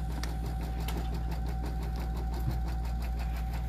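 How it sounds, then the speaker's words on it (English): A quilting machine stitches fabric with a steady, rapid mechanical pulse over a constant low motor hum. It sounds close and even, with no talking. "So here we are, just quilting."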